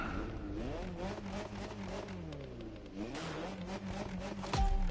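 A race car engine in The Crew Motorfest video game revs aggressively, pitch sweeping up and down continuously, with a brief harsher burst at the end.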